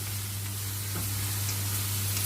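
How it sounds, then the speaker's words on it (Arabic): Hot water added to vegetables sautéing in a pan sets off a steady, continuous sizzle, close and even throughout, over a low constant hum, with no one talking. "وبعد كده انزل عليها بقى بالميه السخنه عشان تستوي"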